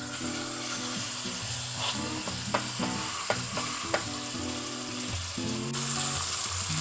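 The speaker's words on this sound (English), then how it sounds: "I'm going to simply put this into the oil and sear it on each side for about 5 minutes" Beef shanks searing in hot oil in a pot, a continuous close sizzle with scraping and stirring clicks, loud and steady with no talking.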